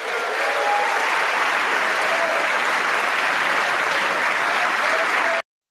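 Sustained applause from an audience at a State of the Union address, a dense steady clatter of many hands filling the room at full strength, then stopping abruptly.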